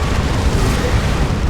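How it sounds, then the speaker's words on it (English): A Great Unclean One blows up in Dawn of War 2, a dense, rumbling explosion in a busy battle that stays loud and sustained with no clear separate blasts. "There's the Great Unclean One explosion."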